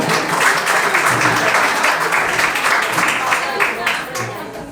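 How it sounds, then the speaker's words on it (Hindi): Audience applause for a speaker at a motivational talk, a dense steady wash of many hands clapping throughout, fairly loud and continuous, easing slightly toward the end. "इनके लिए ताली एक बार बजाइए बाबू"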